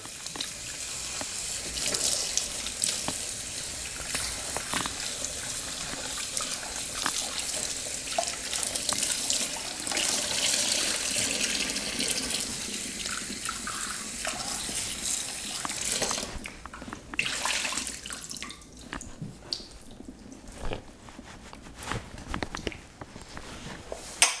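Cold water runs steadily from a kitchen tap while something is rinsed in the sink, a continuous splashing hiss with clinks and shifting spatter as the item is moved under the stream, no talking.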